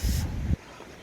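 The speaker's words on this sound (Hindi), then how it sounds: "कितनी तेज़ हवा चल रही है" Low, rumbling cold mountain wind in Manali's Solang Valley in December buffets the microphone for about half a second, then drops away to a quieter hiss of moving air.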